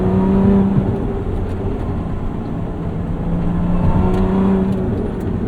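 A modified 2024 Lotus Emira with Ohlins TTX suspension accelerates through the gears with a loud, droning engine note heard from inside the car, rising in pitch, dipping at short shifts and climbing again.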